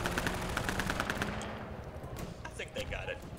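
Rapid automatic gunfire in the video game Half-Life 2, a dense burst of shots that fades after a second or so, followed by softer scattered game sounds with voices talking.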